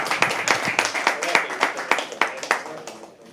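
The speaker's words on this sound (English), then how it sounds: "Can we please have another round of applause?" Audience at a live poetry open mic clapping after a performance, sharp individual claps in a loose rhythm from a small crowd, close and fairly loud before trailing off.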